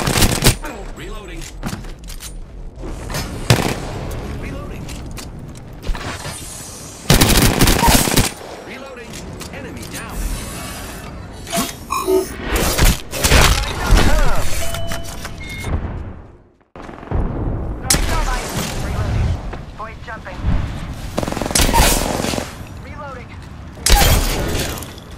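Gunfire in the battle royale shooter Apex Legends comes in loud, rapid automatic bursts separated by short gaps, with glassy shattering and a voice speaking between volleys.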